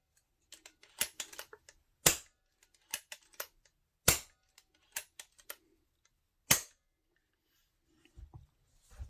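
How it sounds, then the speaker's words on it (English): An Umarex Notos air rifle is dry fired, giving a handful of sharp, isolated metallic snaps spaced a second or two apart, mixed with quieter clicks and handling noise in a quiet room. "Take the safety off and dry fire it a couple times."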